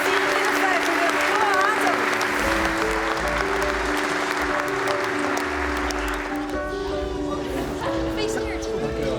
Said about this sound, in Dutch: Mag ik nog een heel groot applaus voor Johan Cruijff Talent van het Jaar 24-25